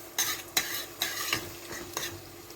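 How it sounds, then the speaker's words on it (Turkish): Onions with tomato and pepper paste stirred in a pan, with distinct spoon scrapes and clinks against the pan repeating every half second or so over a faint sizzle. "Güzel karıştırıyorum."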